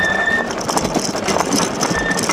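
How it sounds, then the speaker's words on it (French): Fat bike brakes give thin, high squeals while the bike is ridden. One squeal sounds at the start and another near the end, over steady rolling and wind noise. "Pour ceux qui ne savent pas pourquoi mes freins couinent"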